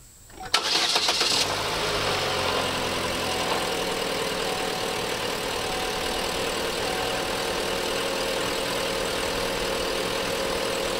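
A car engine with a radiator fan that kept running cranks briefly and catches, then settles into a steady, close idle that runs on alone.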